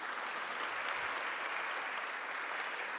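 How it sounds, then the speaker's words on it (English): Audience applause at a women's suffrage centennial ceremony in Connecticut, a steady dense wash of many hands clapping that stays even and full for the whole stretch, with no voices over it. "How about a round of applause?"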